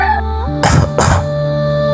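Two harsh coughs from an old man in quick succession cut through a steady, droning musical background, close and loud, inside a cave.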